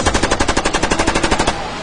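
Rapid automatic gunfire as a sound effect, a fast even burst of about twenty loud shots that trails off into a fading echo.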